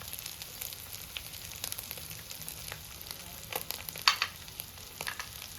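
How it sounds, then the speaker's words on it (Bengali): Chicken keema frying with spices in a pan, a steady close sizzle with crackling bursts and a sharper pop near the end, with no talking. "এই যে মাংসটা ভাজা হয়ে গেছে"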